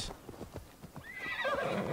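A horse in the video game Assassin's Creed Valhalla gives a rising, drawn-out neigh after a run of soft hoof clops, close and moderately loud over low ambient noise.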